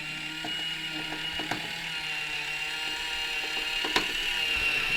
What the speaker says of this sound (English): press the button, and then we're going to let go of it, and it's going to work its way round.